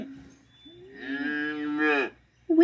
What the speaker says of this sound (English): Do you see the mama cow?